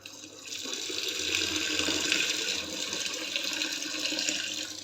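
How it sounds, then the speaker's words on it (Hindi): Ice-cold water is poured in a thin stream into a pot of churned butter while making desi ghee, a steady close splashing hiss that lasts throughout. "अभी मेरे पास पानी है, यख ठंडा पानी है ये। इसको मैं धार बांध के इसके अंदर शामिल करूँगी।"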